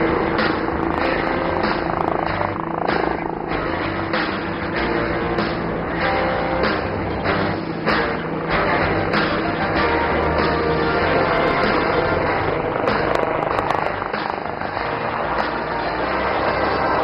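An HAL Light Utility Helicopter flying at the Aero India air show, heard as a loud, steady rotor and engine roar with broadband rumble lasting throughout, with no voices over it.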